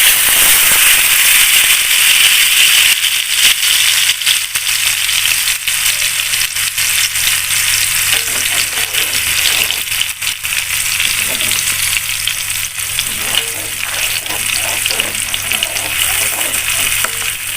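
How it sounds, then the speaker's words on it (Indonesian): Ground spice paste poured into hot cooking oil sizzles and fries loudly and continuously, a dense crackling hiss with spattering pops that lasts throughout. "Kita tuang bumbu yang tadi dihaluskan."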